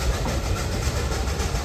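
Shay steam locomotive No. 1 Dixiana of the Roaring Camp Railroad works up a steep redwood-forest grade, giving a steady, loud rumbling chug with rail and car clatter and no talk.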